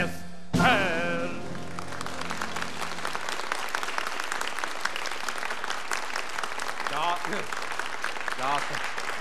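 A studio audience at a live Swedish radio comedy broadcast breaks into applause right after a sung line ends, the clapping continuing steadily while voices speak and sing over it.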